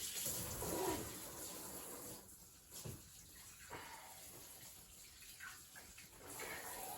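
Kitchen tap water runs steadily in a home kitchen, a continuous hiss and splash that holds throughout with slight shifts in level, with no voices over it.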